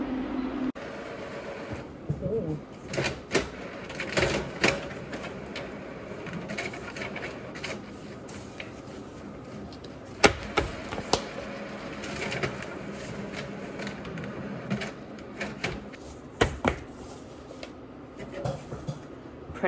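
A malfunctioning office printer in a natural dye studio in Ireland whirs and clatters steadily with repeated knocks and rattling clicks. A person talks over it now and then throughout.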